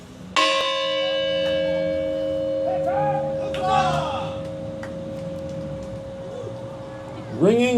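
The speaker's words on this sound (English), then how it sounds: "Our Rotarians will now ring the bell 13 times, once for each of the original states." A bell rung at a 4th of July celebration in Bennington gives one loud, clear strike that rings out and slowly decays, with another strike at the very end and faint crowd sounds between.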